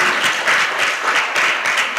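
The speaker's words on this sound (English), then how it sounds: "Can we give them another round of applause?" An audience at a youth talent day gives another round of applause after a performance, a loud, dense burst of many hands clapping throughout with slight swells in intensity.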